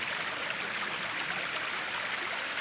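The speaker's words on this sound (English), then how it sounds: "All kinds of little waterfalls all the way through." Steady rushing water from a stream swollen after heavy rain, spilling over small falls in a valley, a continuous broadband splash with no pauses, close and fairly loud.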